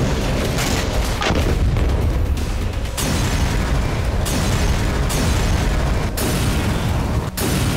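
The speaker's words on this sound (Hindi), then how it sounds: "बीती रात गाजा पट्टी के साथ साथ वेस्ट बैंक में भी जबरदस्त बमबारी की गई।" Heavy bombing of the Gaza Strip and West Bank, with deep, sustained booming blasts and rumbling bursts rolling one after another, loud and dense, with no voices.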